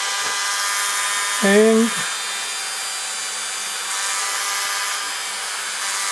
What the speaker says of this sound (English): Using a diamond point taper, we enlarge the hole a little